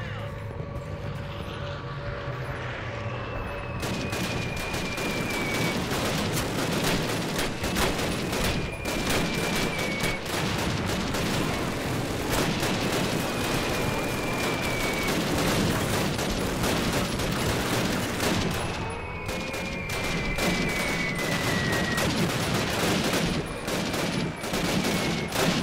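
Call of Duty battle soundscape with sustained rapid gunfire and artillery bursts, dense and loud throughout, with faint whistling shells streaking overhead several times.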